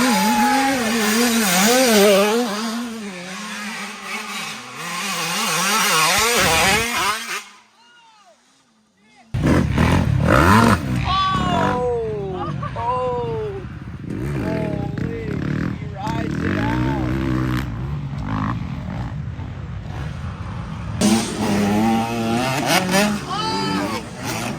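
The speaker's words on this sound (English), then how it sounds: "Dom number 2 with the header pipe out. The whole silencer is gone." A racing motorcycle at a Grand Prix runs with its header pipe out and the whole silencer gone, its raw engine note rising and falling loudly in passes. A short quiet gap breaks it, and a commentator talks over it throughout.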